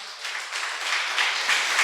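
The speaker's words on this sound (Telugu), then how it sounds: "చప్పట్లు కూడా దేవుని స్తుతిస్తారా?" A church congregation at a Sunday service claps in praise, a steady wash of many hands swelling gradually over a couple of seconds, with no speech over it.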